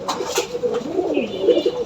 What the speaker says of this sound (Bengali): এ দুইটা কি কবুতর? দুটো গিরিবাস।